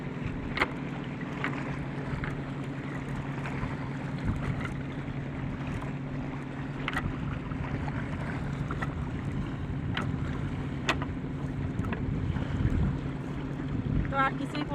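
A small boat sits on the water during a prawn-fishing outing, with a steady low drone and wind noise running throughout and scattered faint knocks and clicks.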